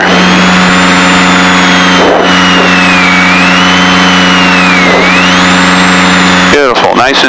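A Piper Seneca twin-engine airplane flies with one engine feathered, its steady droning hum loud and constant in the cabin, with a brief crackling burst near the end.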